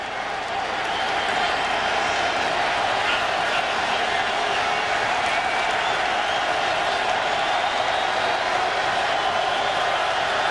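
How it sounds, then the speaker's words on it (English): A football stadium crowd at a 2002 Miami Hurricanes vs Boston College college game roars in a steady, loud wash of cheering and applause that holds for the whole stretch without letup. "Crowd trying to get a little excited to pump up the defense."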